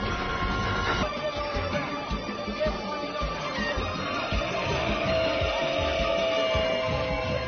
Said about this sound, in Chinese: 基文斯随后爬上另一列火车逃离。